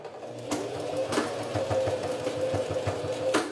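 A sewing machine stitches close along the edge of a phone case with two zippers, a fast steady mechanical chatter with a few sharp clicks, alone and fairly loud.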